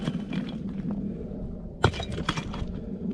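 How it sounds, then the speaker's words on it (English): A sharp glass-like clink or crack stands out once near the roadside at the 9.3 mile mark of North Shore Road, followed by a few smaller clinks over steady low outdoor background noise. "That sound, it's like it's a glass-like sound."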